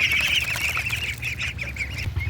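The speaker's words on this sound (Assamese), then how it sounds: "বলক আপোনালোকক হাঁহ পোৱালিকেইটা দেখাই দিওঁগৈ" A flock of month-old farm ducklings, grown to around 700 to 800 grams, keeps up a dense, continuous chorus of high cheeping and quacking calls, close by and fairly loud throughout.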